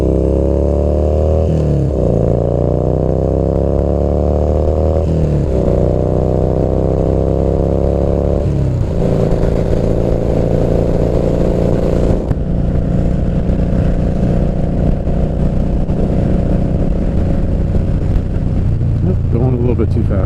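A motorcycle fitted with a Vance & Hines competition exhaust pulls away, its engine note climbing through several gear changes before settling into a steady, loud cruising drone.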